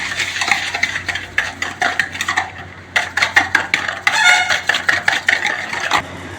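A spoon or whisk stirs yogurt into eggless cake batter in a bowl, giving quick repeated scraping and clinking strokes, close and fairly loud, with no voices.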